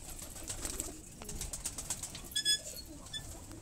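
A flock of Kalseere Madrasi pigeons coos softly at close range, with low repeated calls, light wing flutters and a few brief sharper chirps against a background hum.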